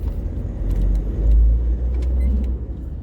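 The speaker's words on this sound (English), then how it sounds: "Now today I'm driving Scorpio," Inside a Scorpio SUV driving near the Kanpur Highway in Krishnanagar, a steady, loud low rumble of engine and road noise swells briefly midway, with faint rattles on top.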